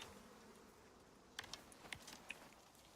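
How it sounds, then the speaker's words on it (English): Bees buzz around a bee tree in the survival game Icarus, faint and close-ish, with a few brief sharp clicks and pops rising over the low hum. "That's one problem with the bees,"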